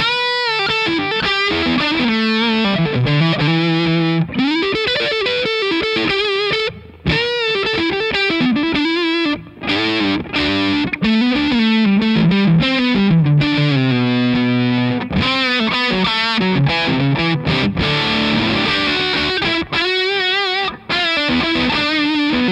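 Electric guitar played through an SD2 overdrive pedal set with a high tone and near-zero gain, a loud, continuous stream of melodic lines and chords with a light grit, heard alone with only brief pauses between phrases.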